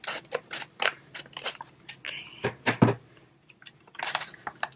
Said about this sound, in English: Grab my scissors. We'll just trim off the top so I can use the bag at a later date.